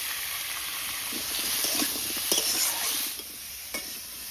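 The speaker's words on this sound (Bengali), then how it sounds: "এই লবণ আর এই হলুদ দিয়ে ভালো করে ভেজে নিই কুমড়ো আলুটাকে" Pumpkin and potato pieces frying with salt and turmeric give a steady close sizzle and hiss, with scraping stirring strokes and a few soft clinks of the spatula against the pan.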